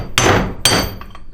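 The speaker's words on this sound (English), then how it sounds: "come on, hit it with a hammer" Two sharp, ringing hammer blows on a racing limited-slip differential about half a second apart, followed by a couple of faint lighter taps, close and loud.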